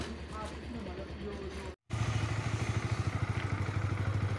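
A Yamaha R15 motorcycle engine idles close by in a steady, fast, pulsing putter during checking at a bike service shop. The sound cuts out briefly and then resumes.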